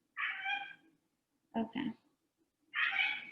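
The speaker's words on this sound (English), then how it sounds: "I'm sorry for my cat in the background." A pet cat meows loudly three times in a home kitchen, the first and last calls drawn out and the middle one short and broken, with a person briefly speaking between them.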